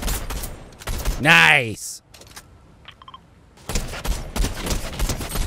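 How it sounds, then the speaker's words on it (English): Rapid gunfire in the Fortnite video game, bursts of crackling shots near the start and again in the second half, with a voice briefly cheering in between. "You had some good shooting there"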